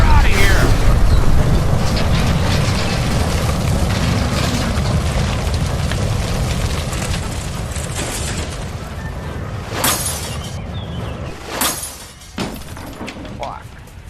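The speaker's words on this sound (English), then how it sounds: "Shoot the gas line, Cole, we're out of" A gas line blows in an LA Noire house fire, a loud rumbling boom and roaring blast that fades into crackling debris and a few sharp cracks, with a shouted voice over it.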